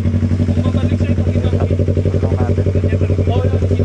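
A Stalker motorcycle engine runs at a steady loud idle-like pulse during a ride, a close rhythmic low throb that continues evenly throughout, with someone talking over it.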